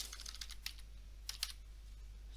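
A handful of light computer keyboard key taps entering a name, soft and sparse, over a steady low electrical hum.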